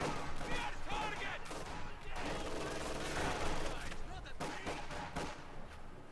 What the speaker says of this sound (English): they have the MG42 in the rear there, getting some fire